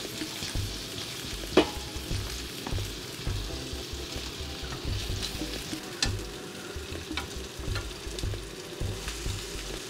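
Pieces of kingfish, mutton, chicken, prawn or paneer sizzle in hot oil in a pan while being tossed and stirred, a steady crackling fry broken by a few clicks of utensils on the pan.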